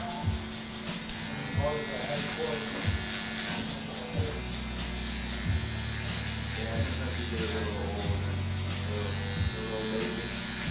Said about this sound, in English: Sometimes you'll see me draw in the line with the edge of the trimmer